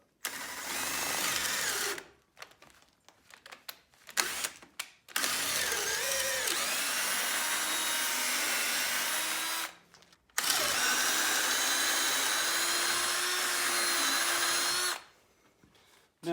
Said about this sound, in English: you're going to see it's going to grab and tear the wood up